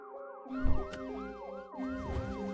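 An ambulance siren wails in repeated rising and falling sweeps, fairly close and continuous, with a low rumble of traffic underneath and no speech.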